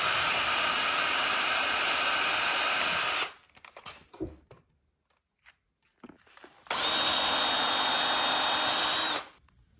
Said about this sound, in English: Now I'm trying to pre-drill into here.